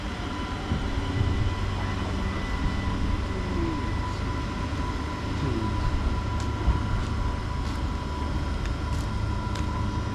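A London Northwestern Railway train on the 12:55 service to Bletchley departs Bedford station, heard as a steady, fairly distant rumble and hum with faint clanks, with no talk over it.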